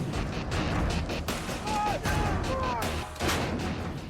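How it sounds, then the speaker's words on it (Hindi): American artillery cannon firing in Ukraine: continuous loud booming and crackling blasts with dense rumbling bursts throughout, close and heavy, with faint whistling tones in the middle. "पुतिन की फौज पर अमेरिका की तोप धुआंधार बमबारी कर रही है।"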